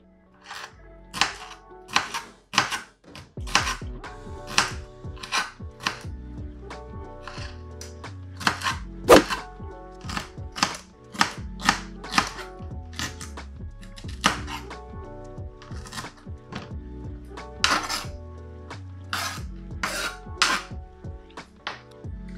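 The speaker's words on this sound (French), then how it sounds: "je vais les couper en 3 et en petites tranches." A knife chops celery into small slices on a cutting board, giving a long run of sharp, close, distinct thuds in an uneven rhythm with brief pauses, alone without talk.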